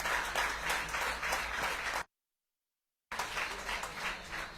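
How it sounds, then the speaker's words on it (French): An audience at the team presentation for the Tour de Guadeloupe 2024 cycling race claps steadily for the club volunteers. A sudden full second of silence cuts into the middle, and then the applause resumes at the same level. "ce soir, vous devez les applaudir"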